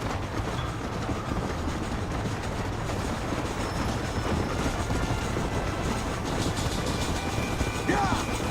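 A train in Red Dead Redemption rumbles and clatters steadily along its rails, a dense continuous roar with faint squeals and mixed game sounds on top.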